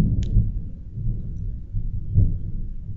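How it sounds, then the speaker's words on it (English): Loud thunder rolls outside, a continuous low rumble that swells and fades over several seconds with no talking. "There's a thing called thunder, and it's fucking loud right now."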